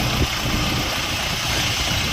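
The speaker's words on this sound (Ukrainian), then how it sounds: "Відвантажуємо тракторець Джинна 404. Тракторець 4-циліндровий, повнопривідний." Jinma 404 four-cylinder, four-wheel-drive mini tractor engine idling steadily at close range, a continuous low rumbling drone with even vibration throughout and no talk.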